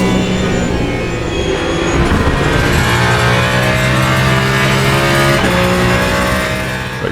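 An LMP2 race car engine in the racing game Le Mans Ultimate roars loudly and continuously, holding a steady high-revving drone with brief shifts in pitch.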